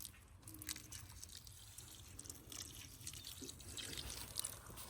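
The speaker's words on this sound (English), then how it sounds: "Maybe I'll give it some water." Water is given to a recently transplanted garden plant, a faint, soft trickle and patter of drips running continuously at low volume, close by and alone.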